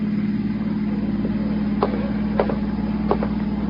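A car outside keeps up a steady, low engine drone throughout, moderately loud and unbroken. A few brief clicks are heard over it, and no one speaks.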